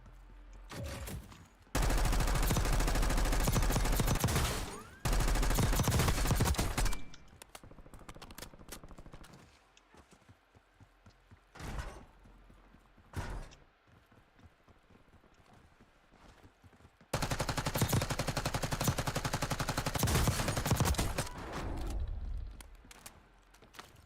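Bursts of heavy gunfire in the battle royale shooter Call of Duty Warzone, with two loud sustained volleys early on, scattered single shots in between, and another long, intense burst near the end.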